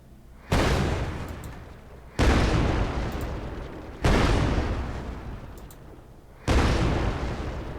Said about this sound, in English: let's see what happens when we shoot him 5 times